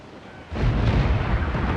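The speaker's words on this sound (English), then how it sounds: "Cannon! Fire!" Heavy ship cannon fire in Assassin's Creed 4: Black Flag, a booming blast that kicks in partway through and rumbles loudly to the end, with no voices over it.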